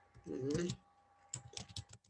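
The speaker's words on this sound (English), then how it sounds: "my typing is not too quick" Typing on a computer keyboard during a business training presentation: a brief voice comes first, then a short, uneven burst of quiet, close key clicks.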